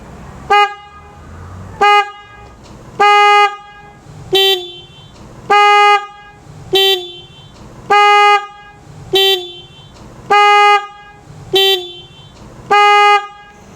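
A loud Denali Soundbomb Mini horn on a Yamaha V Star 1300 motorcycle honks about eleven times in short, evenly spaced blasts, with near silence between each toot.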